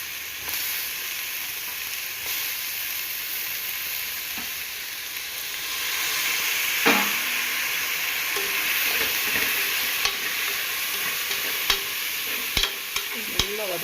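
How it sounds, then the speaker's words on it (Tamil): Mint, coriander leaves, green chili and tomato sauté for a Tamil chicken curry, giving a steady close sizzle and frying hiss across the whole stretch, with occasional clinks and scrapes of a stirring spoon toward the end. "நல்லா வதக்கிட்டு"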